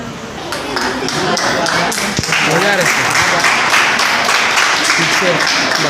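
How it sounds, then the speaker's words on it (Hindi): Sustained applause from a crowd at a Hindi Divas celebration in a government degree college, dense clapping that swells early and holds steady throughout. "और तालियों के साथ"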